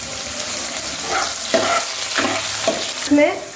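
Mustard seeds, garlic and green chili sizzle in a frying pan, a steady hiss broken by a few stirring scrapes and clinks, close and fairly loud with no talking.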